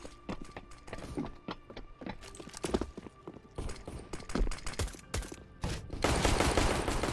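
Rapid gunfire bursts from a CS:GO match, sharp repeated shots clustered in quick volleys, loud and close, ending in a dense burst.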